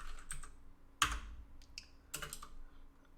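Someone types an SQL query on a computer keyboard, with sparse separate keystrokes and a sharp louder burst of clicks near the middle and again toward the end, close up and with no talking.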